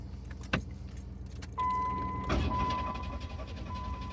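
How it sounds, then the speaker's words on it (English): A Pontiac Firebird with a misfire cranks over during a clear-flood crank, a steady mechanical whirring drone that starts abruptly and runs on, preceded by faint clicks and a thump and joined by a brief tonal whine. "I did a clear flood crank onto it."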